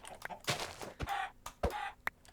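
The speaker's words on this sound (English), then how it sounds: "I need to also kill the chicken so that we can get the feathers that we need." A Minecraft chicken gives short, clipped clucks in quick succession, close and fairly loud, with several sharp hits of game noise in between.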